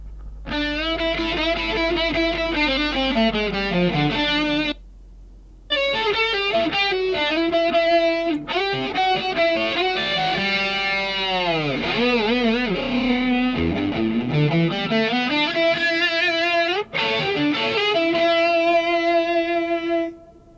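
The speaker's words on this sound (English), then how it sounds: "it's more like echo now instead of reverb" Dry, processed voice-like sound after de-reverb processing, with a faint, short echo trailing behind it, running steadily and loudly throughout with only brief gaps.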